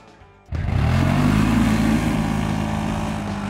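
A pair of 1000cc ATVs, a CF-Moto and a QJ-Motors, rev and accelerate on an asphalt stretch, a sudden loud engine roar that kicks in after a quiet start and holds steady and close.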